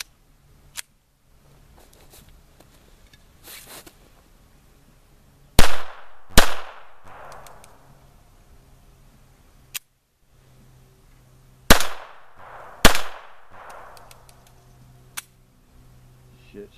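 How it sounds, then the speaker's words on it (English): Four loud, sharp cracks from an unsuppressed .22 rifle ring out at uneven intervals, each with a short ringing decay, between quieter clicks and handling noises. "So first I'm going to shoot without."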